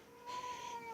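A cat in heat gives a single faint, drawn-out meow, heard from a distance against a quiet background.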